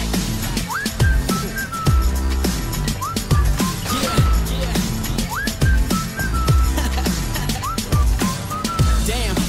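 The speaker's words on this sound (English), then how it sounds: "I didn't know what to say, so I just whistled at her." Someone whistles at a girl in a catchy rising-and-falling pattern, repeated phrases sliding upward, heard over a steady beat of music with thumping low hits throughout.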